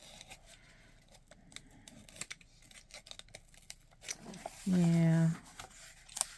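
A dull knife scraping and slicing through pages of an old book in close, uneven strokes with papery tearing, followed by a louder rasping pull; a voice speaks briefly.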